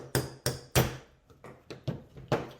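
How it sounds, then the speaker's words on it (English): A hammer strikes a 1/16 inch punch to drive a pin out of a KitchenAid stand mixer's worm gear housing, giving six or seven sharp metallic taps in an uneven rhythm, close and clear with no talking. "With a 16th inch punch and a hammer, just give it a few good taps and it should come right out."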